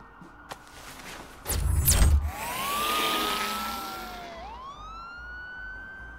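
Police car sirens in the Telltale Batman video game, with a couple of sharp impact bursts first, then a siren wailing up and down in a rising and falling sweep, quite close and clear.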